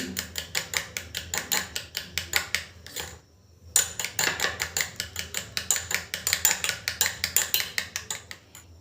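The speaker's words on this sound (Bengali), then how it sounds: "এবার আমি অ্যালোভেরা জেলের সাথে ভালো করে পেঁয়াজের রসটা মিশিয়ে নিচ্ছি" Rapid clinking of a utensil against a bowl while onion juice is stirred into aloe vera gel, a steady fast tapping rhythm close by with a brief pause midway, no talking.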